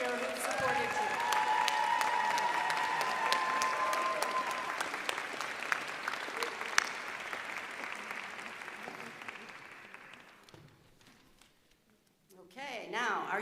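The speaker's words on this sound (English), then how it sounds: "join me in giving a warm round of applause to them and to all the faculty members here who've supported you" Warm round of applause from the crowd at a university commencement ceremony for languages, literatures and cultures, steady and sustained for about ten seconds before fading out, with a voice resuming at the end.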